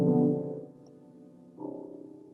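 A musician's imagined interpretation of a black hole, rendered as low, droning sustained tones that swell, sink to a quieter hum, then rise again in a second layered chord, eerie and spacious, with no voices.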